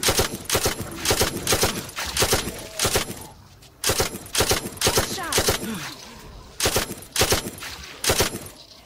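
Bursts of automatic fire from an MG-80 machine gun in a zombie shooter video game, loud sharp rapid volleys repeating in about eight rhythmic clusters with short gaps, no talking over them.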